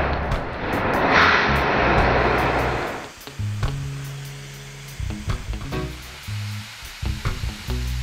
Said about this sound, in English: Here is he is welding the outside of the chamber to the top of the base.